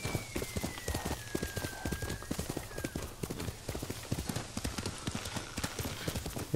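Horse hooves clip-clop in a quick, steady rhythm as a rider travels on horseback in Ghost of Tsushima, loud and close throughout over light ambient game sound.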